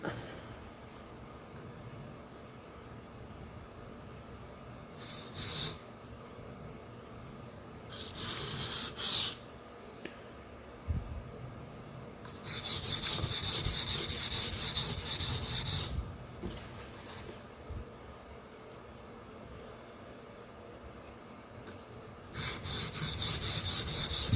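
Dull Sabatier paring knife ground on Shapton and Suehiro whetstones, repeated bursts of gritty scraping strokes of varying length separated by quiet pauses, close up and with no talk.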